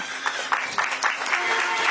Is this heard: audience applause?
yes